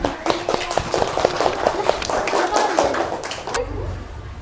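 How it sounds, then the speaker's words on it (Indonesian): A primary school class applauds a student group as it returns to its seats, brisk, close clapping for a few seconds that breaks off into a low rumble and room noise, with a voice talking over the clapping. "Tepuk tangan untuk kelompok 1."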